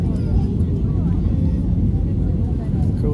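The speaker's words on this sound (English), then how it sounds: "We're landing on the south coast." Cabin of an airplane descending to land at Las Palmas airport on the coast of Gran Canaria, filled with a constant, loud, droning engine and airflow roar that holds steady without pause.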